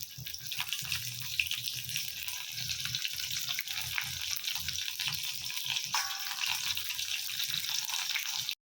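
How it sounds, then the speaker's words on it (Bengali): Potatoes and pointed gourd fry in hot oil in a home kitchen, a steady, bright sizzling hiss running unbroken throughout with faint clatter beneath it. "এবার আলু আর পটলগুলো ভেজে নিই"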